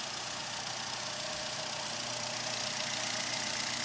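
A repaired engine that had trouble starting now idles smoothly, giving a steady, even mid-pitched hum with a constant rumble throughout and no talking.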